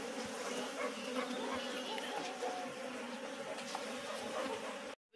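Honey bees buzz in a dense, steady swarm close by, filling a smoky room in the mountains as honey is harvested, continuous and loud before cutting out abruptly.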